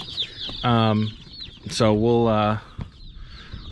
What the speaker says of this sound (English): Each of these boxes holds 50 chicks.